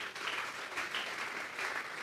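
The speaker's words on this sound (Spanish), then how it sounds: "Denle un fuerte aplauso pues al Señor" A church congregation gives a strong round of applause for the Lord during a sermon, with brief, continuous dense clapping that stays fairly soft and distant and has no speech over it.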